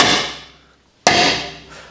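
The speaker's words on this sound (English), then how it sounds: "let's start by giving everything a good center punch." Two sharp metallic strikes of a hammer on a center punch against the steel chassis of a V8 Land Rover Discovery, each ringing and decaying, spaced about a second apart, close and loud.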